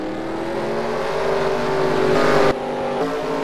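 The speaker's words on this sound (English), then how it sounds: "drivers, start your engines!" Race car engines firing up and revving at South Boston in a racing video game, a dense, loud, continuous engine drone with rising pitch and a sudden shift in tone partway through, no talking.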